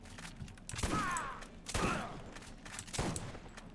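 Shotgun blasts from the video game Borderlands, three loud booming shots spaced about a second apart, each with a short rumbling decay.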